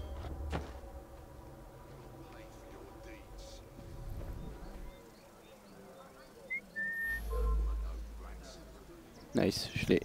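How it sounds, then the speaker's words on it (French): Short whistle from a player character in Assassin's Creed Syndicate, luring a guard, thin and brief at mid-clip amid ambient game sounds, with someone talking over much of it. "j'ai réussi à l'attirer en sifflant"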